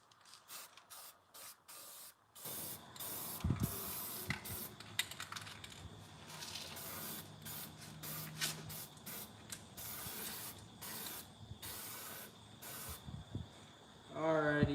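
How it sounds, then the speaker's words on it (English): Rust encapsulator sprayed onto a car in bursts from a can, hissing spray pulses of varying length, close and fairly quiet, with no talking. "let's start spraying on our rust encapsulator."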